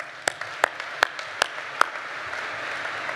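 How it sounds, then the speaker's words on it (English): A small conference audience applauds at a technical papers presentation session: a handful of sharp, distinct claps ring out in a sparse, uneven rhythm, then fade into quiet room noise. "so let's give them a round of applause."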